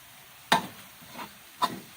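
Garlic frying in a pan over gentle heat, stirred with a few scraping strokes: one sharp scrape, a softer one, then another distinct scrape, over a faint steady sizzle.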